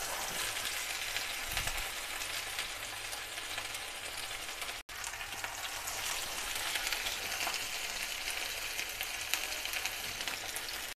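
Chapli kebabs frying in a pan over low heat, a steady, close sizzle of hot oil running continuously with no talking.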